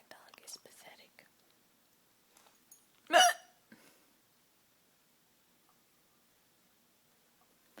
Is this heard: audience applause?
no